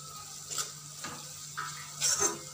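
Onions frying in oil in a kadai give a low sizzle, broken by several short scraping stirs and a brighter clatter near the end, heard close with no voices.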